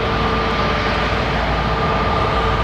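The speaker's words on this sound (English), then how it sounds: "she's Rolls-Royce powered, this 330. Big, long spool up on the Trent" An Airbus A330 with Rolls-Royce Trent 700 engines spools up at an airport, giving a steady, broad jet roar with a sustained whine over it, loud and continuous.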